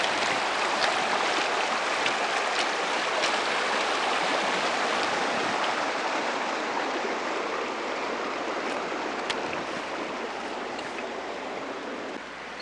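Waterfalls Creek rushing beneath a large bridge on a mountain hike near the Cline River, a steady, full broadband roar of flowing water that stays loud and unbroken throughout, with no talking.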